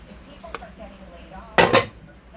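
Chopped apples, two medium ones cut fine, being mixed into fritter batter in a bowl for a 1927 apple fritter recipe: a quick scrape, then a louder double scrape near the end over a quiet room.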